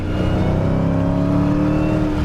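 A 2018 Dodge Challenger Hellcat Widebody's 6.2-liter supercharged 707-horsepower V8 pulls hard on the Buttonwillow track, a loud, continuous engine roar with a steady rising drone and supercharger whine, heard from inside with windows down.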